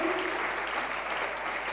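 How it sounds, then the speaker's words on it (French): Dense, steady applause from a church audience at a gathering in Kinshasa, holding at an even level throughout a short burst. "Est-ce qu'on peut acclamer pour la gloire de Dieu?"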